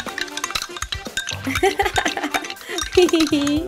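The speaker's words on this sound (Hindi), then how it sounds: "अब इसे मिलाएंगे।" Coloured water is stirred in a container during a children's walking-water science experiment, giving soft swirling with light clinks against the sides beneath a talking voice.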